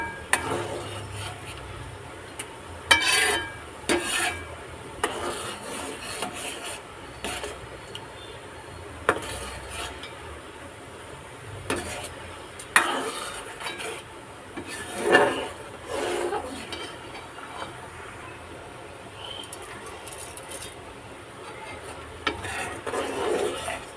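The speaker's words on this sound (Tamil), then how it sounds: "கம்பி பதம் வர வரைக்கும் கிண்டிகிட்டே இருக்கணும்." Maavilakku rice flour mixture being stirred in a pot, with soft intermittent scraping and rubbing strokes, quiet and close, separated by irregular louder knocks of the spoon against the vessel.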